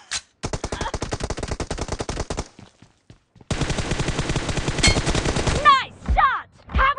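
Rapid automatic gunfire in a shooter video game, two long bursts of fast rhythmic shots separated by a brief pause, loud and close, followed by whooshing effects near the end.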